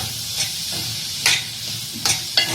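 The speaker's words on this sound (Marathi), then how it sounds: "आता यामध्ये आपण जी शिमला मिरची आणि वटाणे घेतले होते ते आपण यामध्ये मिक्स करून घेऊया आणि याला आधी शिजवून घ्यायचं आहे" Capsicum and peas are mixed and cooked in a hot pan for paneer bhurji, a steady sizzle broken by a few sharp scraping stirs of a spatula, close and fairly loud.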